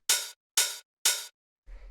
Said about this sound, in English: the next thing we have here is the open hi-hat